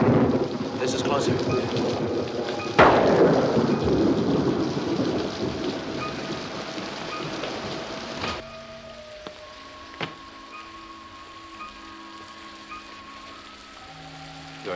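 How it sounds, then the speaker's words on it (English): Steady rain pours with a loud thunderclap and long rumble, then the storm drops to a softer patter with faint tones underneath. "It's raining."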